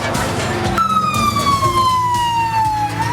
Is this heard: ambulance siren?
yes